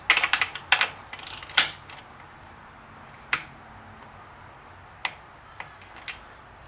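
A torque wrench set to 8.5 tightens small spark plug fasteners on a Jeep JK Pentastar engine, giving a quick run of sharp, close clicks, then several single clicks spaced seconds apart.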